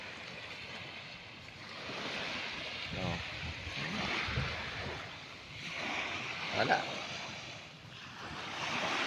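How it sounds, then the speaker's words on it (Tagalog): Gentle surf washes in low and steady, with soft swells rising and falling, while a person speaks a couple of brief words over it. "Malit lang yung alon mga lods."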